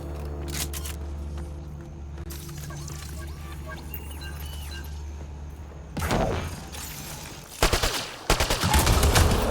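Gunfire at a Kett device in Mass Effect Andromeda, coming after a quiet stretch of low humming ambience and ending in several loud, dense bursts of shots with mechanical clatter.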